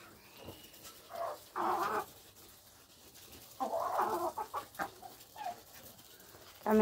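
Clucking chickens and ducks in short bursts, near and moderately loud, with quiet pauses between the calls, kept on a raised kitchen floor during a flood.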